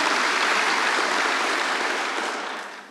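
A congregation claps together during an online church service, a dense wash of applause that holds steady and then fades away toward the end.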